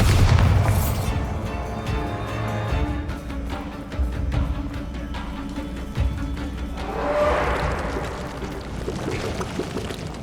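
Bombarda, Confringo and related spells in the Hogwarts Legacy video game make loud, rumbling blasts and crashes, with repeated sharp impacts and a swelling burst of debris partway through.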